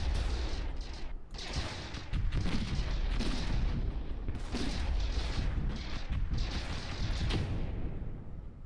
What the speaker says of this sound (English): And there's the plasma gun, wow. It looks like I'm shooting fireballs at like a mage.